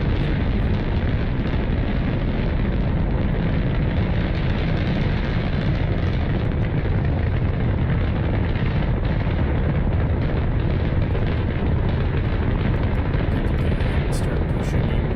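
A spacecraft launching in a space video game: a loud, continuous broadband roar of rocket engines that holds steady throughout, with no pauses.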